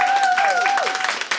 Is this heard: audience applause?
yes